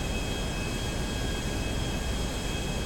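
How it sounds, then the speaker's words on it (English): Jet aircraft in the GTA 5 video game, a steady broadband roar with a thin whine on top, loud and unchanging for the whole stretch, with no talk over it. "we're in a jet just above you"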